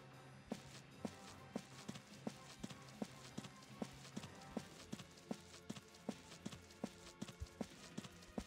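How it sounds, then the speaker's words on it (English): Steady, evenly spaced footsteps from the video game Valkyria Chronicles, clopping like hooves over a forest battlefield, sharp and clear against a busy background of game music and ambience. "How ridiculous would it be if I could tell what's moving just by the sound of the footsteps?"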